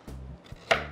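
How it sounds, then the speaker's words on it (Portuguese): A knife slices a carrot into rounds on a cutting board, giving two or three close, crisp chops in quick succession with a sharper final cut. "Eu vou cortar a cenoura também. Primeiro eu vou cortar em rodelas."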